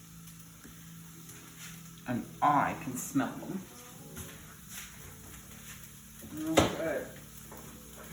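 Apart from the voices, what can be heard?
onions sizzling in a pan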